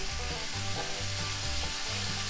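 Pork chops fry in a cast iron skillet, browning over the heat with a steady, close sizzle and crackle that holds for about two seconds, and no talk over it.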